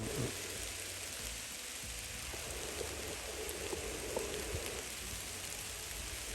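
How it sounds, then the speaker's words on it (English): Rain falling steadily on a farm meadow where cattle are grazing, an even wash of patter that holds constant throughout with no one speaking. "So, not sure they're liking the rain much."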